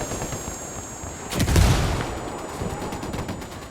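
A frag grenade bursts amid gunfire in Ghost Recon Wildlands, a single heavy boom in the middle rising over steady distant shooting and game ambience.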